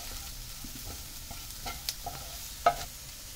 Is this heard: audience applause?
no